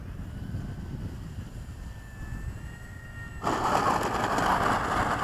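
An E-flite Cessna 150 RC model airplane lands with full flaps at an airfield, its faint electric motor whine drifting far off before a sudden louder wash of wind and rushing noise takes over.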